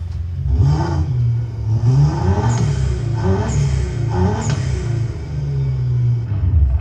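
A stock six-cylinder turbocharged car engine revs in repeated throttle blips, each rise swelling into a rumbling growl and dropping back to a steady idle, heard up close with no talking.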